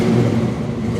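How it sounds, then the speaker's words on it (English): A 1966 Chevelle SS big block 396 engine rumbles and revs steadily, a deep throaty drone holding close and loud for the whole moment. "Certainly sounds like a muscle car."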